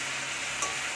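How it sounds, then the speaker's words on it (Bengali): Chicken curry is stirred in a pan over a steady close sizzle, with a single faint clink of the utensil partway through, no voices. "ভালো নাড়তে থাকে।"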